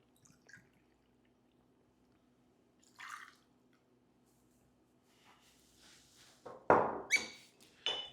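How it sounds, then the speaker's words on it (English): Bourbon is poured into a glass over ice for a Boulevardier cocktail, a few faint clinks and drips followed by a short louder splash and trickle near the end. "So we're going to go ahead and pour the ingredients directly into the glass one at a time."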